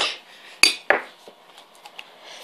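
Two sharp metallic clinks of a spoon against dishes, followed by a few fainter light taps in a quiet room.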